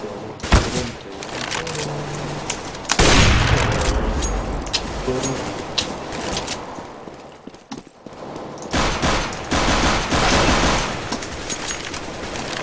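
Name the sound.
AWP and AK rifle gunfire in a video game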